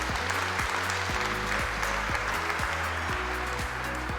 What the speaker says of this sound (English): round of applause again, that was absolutely beautiful.